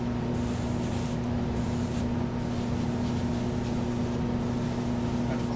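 An airbrush sprays thick Black 2.0 paint in a constant, loud hiss of air that never lets up, heard close and alone with no talking.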